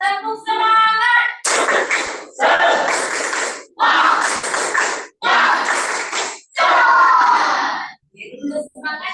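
A school class does a rhythmic spirit clap, bursts of group clapping and children's voices in several loud blocks separated by short pauses, with a teacher's voice at the start.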